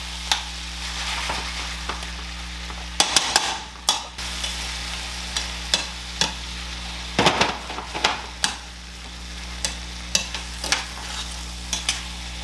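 Tomatoes stirred in a hot frying pan for chicken burritos: a constant soft sizzle under repeated utensil scrapes and clacks against the pan, irregular and close, with a loud clatter near the middle.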